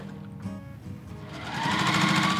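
A sewing machine runs a quarter-inch seam joining background fabric to batik for a quilt, starting with a few slow stitches and then speeding into a steady, loud mechanical whir.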